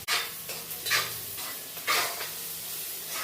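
Small onions sautéing in a pan for chicken biryani: a soft, steady sizzle with a few scraping strokes of a spoon stirring through the pan, heard close and quiet with no talking.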